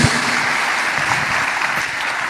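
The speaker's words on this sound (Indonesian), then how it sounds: "Beri tepuk tangan bagi Yesus." Church congregation clapping in applause for Jesus during a sermon, a dense, steady wash of hands at close range for a couple of seconds with no voices over it.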